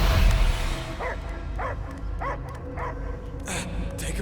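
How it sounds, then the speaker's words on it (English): A dog barks in the Marvel's Guardians of the Galaxy video game, four evenly spaced short yips over a low rumbling background, fairly close and without speech. "I hear only barking."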